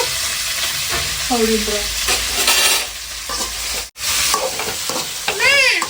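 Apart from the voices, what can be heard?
mustard seeds and mango frying in a pan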